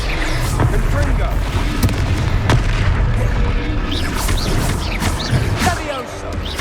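Confringo fire spell explosions in the video game Hogwarts Legacy, booming blasts that land amid a dense, continuous roar of combat effects and low rumble, loud and close throughout.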